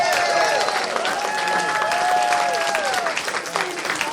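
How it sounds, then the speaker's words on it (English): A dance audience at a Slavic club event breaks into sustained, dense applause after a Podhale folk dance performance, steady crackling clapping with some cheering and voices mixed in throughout. "Let's give it a big round of applause."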